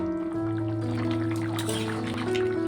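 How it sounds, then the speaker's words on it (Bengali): Hot water poured into a pot of curry made with Malabar spinach and goat fat, a close continuous filling sound with rising liquid tones and light splashing, alone. "একটু গরম জল দিয়ে দিলাম।"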